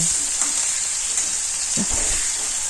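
Young jackfruit pieces fry in a wok with salt, giving a continuous close hiss and crackle, with a few soft scraping stirs underneath and no voices.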